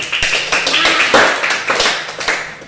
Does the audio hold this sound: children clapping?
yes